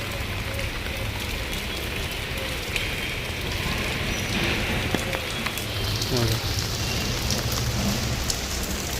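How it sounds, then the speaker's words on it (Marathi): Heavy monsoon rain pours down in a dense, continuous hiss with constant patter on surfaces, close and unbroken, while a person talks faintly beneath it. "पाऊस पडतोय बघा, पूर्ण पाऊस."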